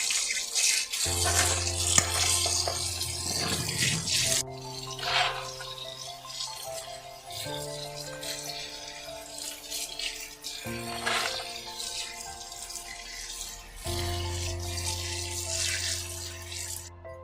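Running tap water rinsing sabbakki soppu leafy greens in a sink, a steady splashing stream close by with a faint background hum, continuous for the whole stretch, no talking.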